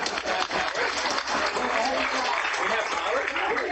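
Graduation audience at the Brookfield Central School Class of 2021 ceremony clapping, a dense, steady wash of applause from a large crowd that carries on without a break.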